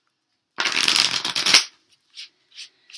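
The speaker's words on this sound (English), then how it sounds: "I do shuffle these prior." A deck of tarot cards is riffled in one loud, fast burst of dense papery flutter lasting about a second, followed by a few faint soft card taps, with a brief word spoken.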